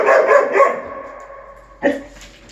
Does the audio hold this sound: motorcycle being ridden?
no